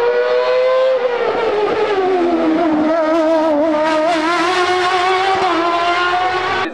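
A hill climb race car engine roars loudly at the Bagnols Sabran hill climb, its pitch sliding down and then climbing again as it speeds past close by, with no talking.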